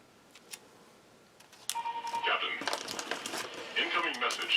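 Mobile phone beeping during the unboxing of a Norwegian Arctic field ration, a run of sharp electronic tones and chirps arriving after some crinkling of packaging, with a voice talking underneath.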